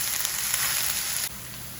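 Ginger and garlic sautéing in a pan for a masala chicken roast give a steady close sizzle and fry that stays even, dropping slightly quieter partway through, with no talking.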